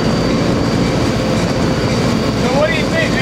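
An Amtrak California Zephyr train in 1993 runs steadily on the rails with a dense rumble and rhythmic rail noise, faint wheel squeals near the end and low voices underneath.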